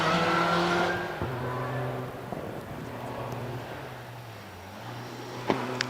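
A home-built Vauxhall Special race car at a vintage hill climb runs at a distance, its engine note a sustained drone that slowly shifts in pitch and fades slightly, ending with a sharp knock.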